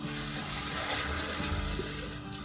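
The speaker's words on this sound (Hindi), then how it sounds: "अब इसमें हम चावलों के लिए पानी डालेंगे।" Water pours steadily into a cooking pot holding fried biryani base for the rice, a continuous, fairly loud splashing gush close by with no talking.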